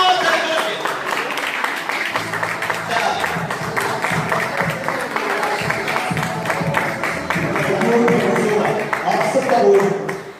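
An audience at a live stage event claps for Mr. Ali Haider, a steady crowd applause holding through the whole stretch and swelling slightly near the end, with a host's voice over it.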